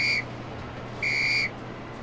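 Two short, steady, high-pitched whistle tones in the video game Lego City Undercover, each about a quarter-second long, separated by a brief pause over a faint background hum.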